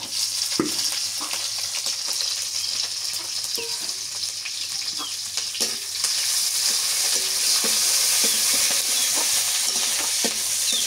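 Chopped onion and green chilies fry in a hot pan, giving a dense steady sizzle with frequent crackles and pops. The frying grows a little louder and fuller partway through, close up with no voices.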